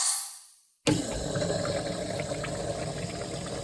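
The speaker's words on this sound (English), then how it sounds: "And this is from a urinal flushing." A urinal flushing in a public restroom: after a short fading sound and a brief near-silence, a sudden loud rush of water starts and keeps pouring and gurgling steadily at close range.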